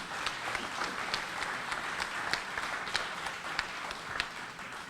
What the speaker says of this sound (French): j'aimerais bien qu'on les applaudisse tous les deux